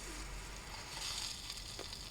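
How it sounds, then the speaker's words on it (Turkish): Steady, low-level sizzling hiss throughout, like food frying in a pan, with faint crackles and pops rising briefly in the middle. "Abimiz kızarttı."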